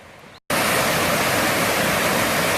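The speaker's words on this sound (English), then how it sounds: "Honey Run Waterfall. Very loud. It rained like crazy last night" Honey Run Waterfall near Mount Vernon, Ohio, roars after a night of heavy rain: a steady, loud, broadband rush of falling water that starts abruptly after a brief gap and continues unbroken, with no talking.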